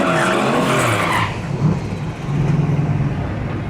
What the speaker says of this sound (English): So let's see how the Mustang runs here in Saskatchewan.